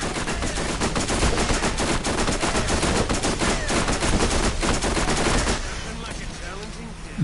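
Rapid automatic gunfire in Borderlands, a long, loud, continuous stream of closely spaced shots that stops near the end and leaves quieter game ambience.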